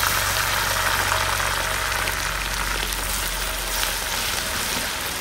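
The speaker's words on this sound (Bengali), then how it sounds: "আদা রসুন পেস্টটা ভালো করে ভুনে নিতে হবে।" Ginger garlic paste frying with browned onion and oil in a pan gives a dense, steady sizzle, loud and close throughout with no talking.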